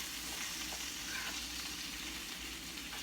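Spinach sizzling and frying in a hot pan for a vegan breakfast stir fry, a steady broadband crackle and hiss lasting throughout with faint stirring, no voices.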